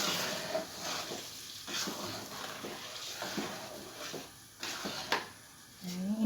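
A spoon stirs thick peanut sauce for gado-gado, giving soft, repeated scraping and squelching strokes at close range over a quiet background.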